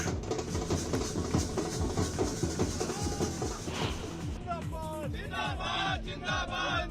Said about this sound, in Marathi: ढोल ताशांच्या गजरात कार्यकर्त्यांचा जल्लोष